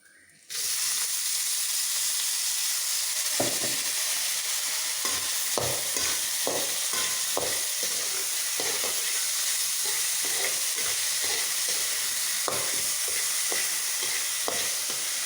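Rice stirred and frying in hot ghee with cardamom, cinnamon and cloves in a pan for Kerala ghee rice, giving a steady close sizzle broken by frequent scraping stir strokes throughout, with no talk.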